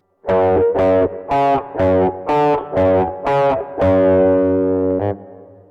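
A distorted electric guitar picks a repeating riff of evenly spaced notes, then lets a final chord ring out before one last short hit.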